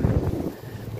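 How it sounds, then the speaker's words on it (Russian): Wind buffets the microphone in low, rumbling gusts, a rough roar that rises and eases over a brief moment. "Ветер дует."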